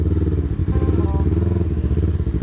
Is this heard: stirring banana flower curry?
no